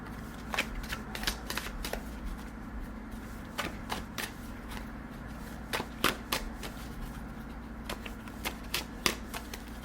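Tarot cards are shuffled and drawn up close, with crisp riffling flutters and sharp card snaps in irregular bursts over a quiet room.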